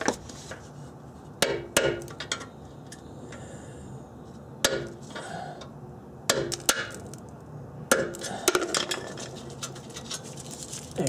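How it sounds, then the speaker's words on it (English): Sharp hammer blows on an old screwdriver drive a part out during Honda Accord muffler and B-pipe replacement, sounding as separate close metallic strikes at irregular intervals over a low, quiet background. "Take an old screwdriver and just drive it out."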